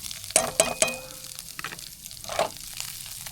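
Food sizzles quietly in a pan, with a few sharp clinks and scrapes of a utensil early on.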